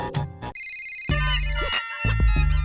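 A phone ringtone for an incoming call plays loud and close as a repeating electronic melody of bright tones that pauses briefly and restarts, with no voices over it.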